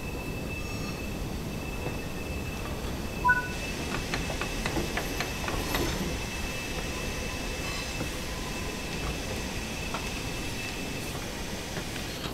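A heavy loaded freight train pulls slowly out of Tunstead Quarry on the Peak Forest Railway, with a continuous rumble, rhythmic wheel clatter and a faint high squeal, heard from a moderate distance.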